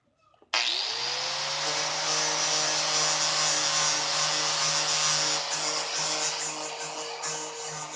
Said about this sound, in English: So I'm just gonna sand on inside here only, smooth it down.